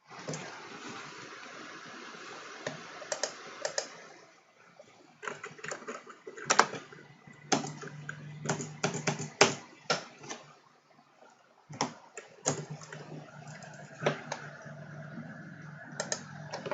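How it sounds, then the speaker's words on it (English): Typing on a computer keyboard, irregular bursts of close, crisp key clicks with short pauses, under a low steady hum of background noise. "why can't I type properly?"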